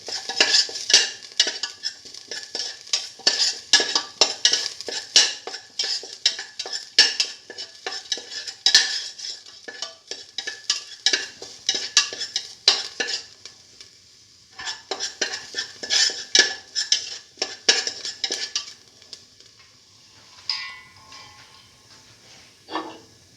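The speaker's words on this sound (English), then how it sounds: "Keep on sauteing." Beef and eggplant being sautéed in a pan, with repeated scraping and clattering of a utensil against the pan in uneven bursts over a faint sizzle, pausing briefly before the stirring resumes.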